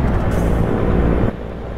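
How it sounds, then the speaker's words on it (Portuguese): A Mercedes-Benz 1620 truck engine in the video game Euro Truck Simulator 2, a loud steady low diesel drone close up, with a slight drop in level near the end. "Somzão espetáculo, né, gente? Parabéns, o som do caminhão."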